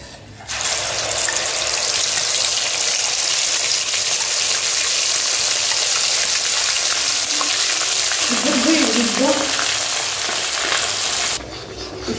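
Masala paste frying in oil with cumin seeds and black pepper for matar paneer, a steady, loud, continuous sizzle with a brief bubbling burst near the end and no talk.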